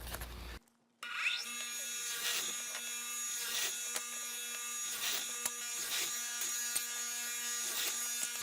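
A power saw cutting wood pieces for a woodworking project, a steady loud whine with a strong hum that starts after a brief pause and runs continuously, with the tone dipping slightly at regular intervals as the blade bites.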